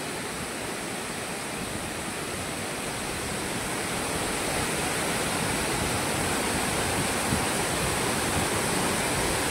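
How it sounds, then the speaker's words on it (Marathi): Manache waterfall pours in a dense, steady, even roar of falling water that holds at constant loudness throughout, with no voices heard. "हा बघा धबधबा"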